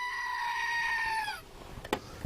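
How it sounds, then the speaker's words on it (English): A goat bleats in one long, wavering call lasting over a second, fairly close and clear, followed by a couple of brief faint knocks and rustles. "The goat."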